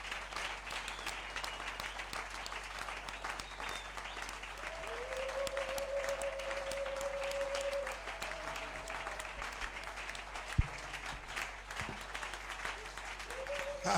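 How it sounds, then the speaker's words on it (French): A church congregation applauds for Jesus, a steady sustained wash of clapping from a large crowd with a single held voice rising briefly over it. "we'll put your hands together for Jesus"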